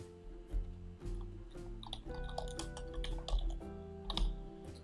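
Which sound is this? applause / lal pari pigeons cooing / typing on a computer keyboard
typing on a computer keyboard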